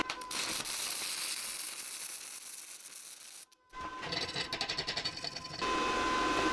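Stick welding aluminium with welding rods: a harsh crackling sizzle of the arc, steady and fairly quiet, broken by a short pause before resuming with a rougher buzzing crackle.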